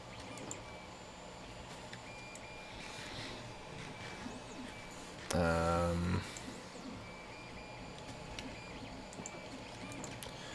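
A 3D printer hums and whirs steadily in the background, with a short, louder, tonal burst of stepper-motor notes near the middle; no one speaks.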